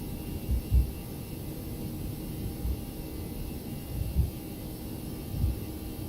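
Toliss Airbus A319 engines at takeoff power in the X-Plane 11 flight simulator: a steady, fairly quiet low roar and hum, broken by a few soft low thumps.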